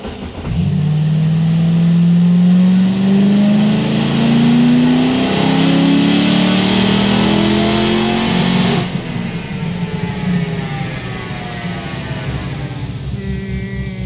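Car engine under hard acceleration during a pull with a two-step launch control, a loud close rising drone that climbs steadily for several seconds, then cuts off and settles into a rougher idle-like rumble.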